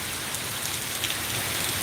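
Torrential rain falls on a village market area in Bassi Pathana, Punjab, a loud unbroken wash of hiss and patter with no voices.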